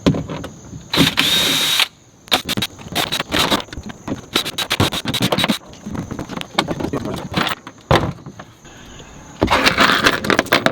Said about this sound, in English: I'm gonna go get my drill